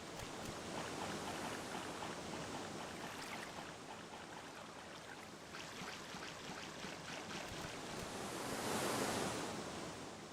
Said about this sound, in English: that's a perfectly acceptable approximation of waves for this technology